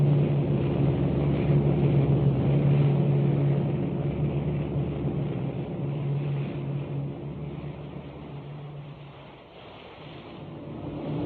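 Warplane engines from a 1944 war film drone in a continuous low, muffled rumble that fades slightly and swells again, with no voices over it.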